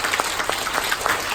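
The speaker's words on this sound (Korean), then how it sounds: "여러분 박수 한번 주세요." Scattered clapping from a seminar audience in Korea, a short burst of distinct individual claps at an uneven rhythm, fairly close and with no talk.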